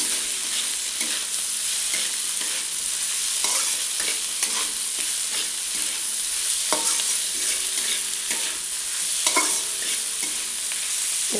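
Chow mein with salt being stirred in a hot frying pan, a steady sizzle under repeated scraping strokes of the utensil, close and continuous with no talking.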